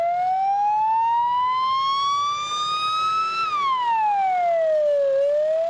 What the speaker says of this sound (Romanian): Spre spital au plecat în goană și două ambulanțe.